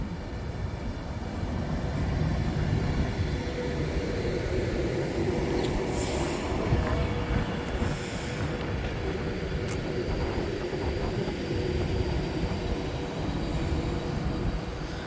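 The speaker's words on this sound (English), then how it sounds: "we are passing through now another of Anti-West Coast 390, running from Manchester Piccadilly to London Euston" An Avanti West Coast Class 390 train on the Manchester Piccadilly to London Euston run passes through Nuneaton on the West Coast Main Line, a moderately quiet, steady rolling rumble with faint rail hiss.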